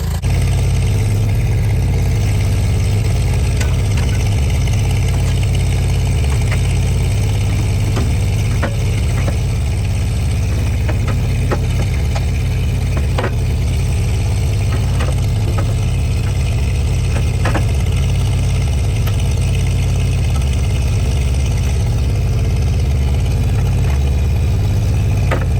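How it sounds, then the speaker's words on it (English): A tractor engine idles close by in a steady, unbroken low drone with a faint irregular ticking on top, running alone with no talk. "You got yourself a running tractor."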